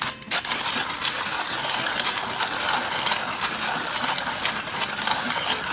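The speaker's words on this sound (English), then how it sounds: "I'm going to add a little freshly ground black pepper" A pepper mill grinds black pepper over a pot of red beans and rice, with a continuous raspy, ratcheting crunch heard close and fairly loud after a brief pause at the start. No voices.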